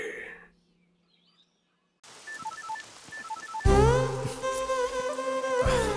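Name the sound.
phone ringing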